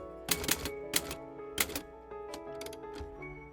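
Typewriter keys clacking in short irregular bursts of strikes, close and crisp, with faint mechanical ticks between bursts and no talking.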